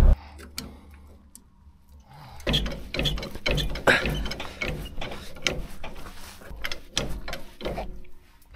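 Screw tightened on the tilted cab of a Mercedes M180 expedition truck, heard as close, rhythmic ratcheting clicks in repeated bursts against a low background rumble.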